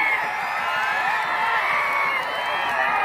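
Large outdoor crowd at a wrestling ground in Jinti, Karmala, cheering and clapping continuously, a dense, steady roar with shouts and whoops throughout, fairly loud and unbroken.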